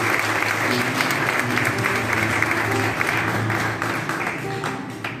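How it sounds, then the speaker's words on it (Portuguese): A church congregation applauds at a baptism service, loud sustained clapping filling the room, with a faint hum and a little crowd noise underneath and no clear speech. "Deus abençoe, uma salva de palmas."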